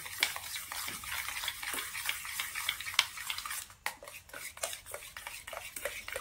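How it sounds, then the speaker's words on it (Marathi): Vanilla essence being stirred into a curd mixture in a bowl, with a steady run of close, light clinks and scrapes of a spoon against the bowl and a brief pause partway through. "आणि हे व्यवस्थित मिक्स करून घ्यायचं"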